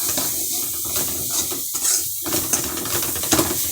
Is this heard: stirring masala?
yes